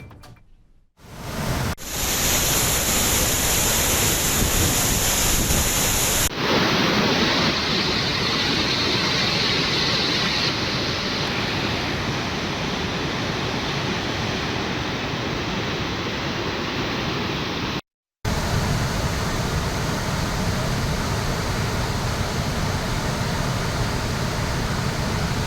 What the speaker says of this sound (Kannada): ಮಲೆನಾಡಿನಲ್ಲಿ ಭಾರೀ ಗಾಳಿ ಮಳೆಯ ಅಬ್ಬರ ಮುಂದುವರೆದಿದೆ.